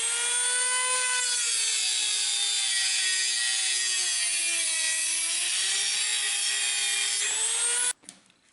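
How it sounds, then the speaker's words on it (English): An electric Dremel rotary tool whines at high speed while cutting on a rifle stock, its pitch wavering slightly under load, steady and close, then stopping abruptly with a few handling knocks. "I'm going ahead and cutting it with the Dremel tool."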